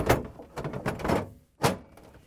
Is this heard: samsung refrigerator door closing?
yes